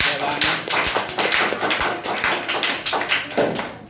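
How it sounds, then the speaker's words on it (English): An audience at a school public speaking competition claps for a participant, a moderately loud patter of many hands that rises and dips over several seconds, with a voice talking over it. "So well done, clap for Anand."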